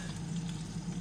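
French beans frying in butter in a pan give a brief, steady, soft sizzle with a low background hum and no voices.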